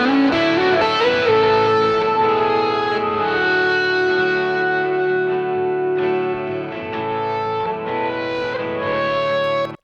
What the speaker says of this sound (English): So here's the guitar part with the plugin bypassed.